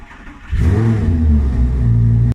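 A Lamborghini's engine idles, then roars into a loud, sustained rev as the car pulls away from a parking spot, filling the clip up close.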